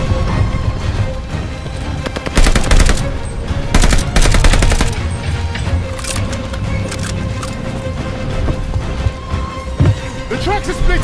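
Bursts of video-game gunfire crackle loudly beside a tank battle, rapid volleys coming in clusters over rumbling engines and combat noise, with shouted voices mixed throughout.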